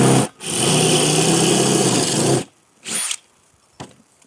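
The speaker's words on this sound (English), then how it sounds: "drill a piece out here first" A power drill whirs loudly for about two seconds, then two short bursts follow as the trigger is pulsed.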